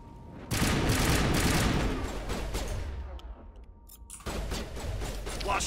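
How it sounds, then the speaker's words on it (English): High explosive rounds fired in Mass Effect burst out in a loud, dense volley of booming shots that swells then trails off into rumble before another sharp blast kicks in. "Eat my high explosive rounds."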